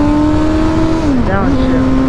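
A manual car engine hums at steady speed, then dips and swells in a quick throttle blip as it downshifts, loud and close, with a voice talking over it.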